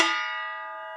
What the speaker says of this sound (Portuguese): Como essa bandeja se transforma no gongo.